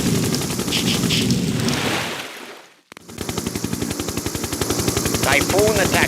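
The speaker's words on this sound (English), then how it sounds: "Guns unleashed." Rapid machine gun bursts from attack units in the strategy game Mental Omega, loud and dense, with a brief dropout midway before the firing resumes in fast, steady rhythmic volleys.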